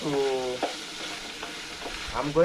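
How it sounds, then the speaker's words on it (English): Onions sizzle and fry in a pan while being stirred, with soft scraping strokes over a steady crackling hiss, close and fairly quiet. "So I want to mix it very well until the onions to be ready."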